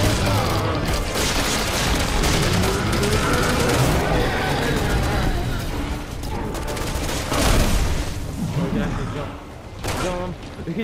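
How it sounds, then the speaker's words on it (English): Gunfire in Resident Evil 6 rattles out as loud, dense bursts and booms over continuous game noise, with players talking over the shooting. "Yeah, we're shooting back."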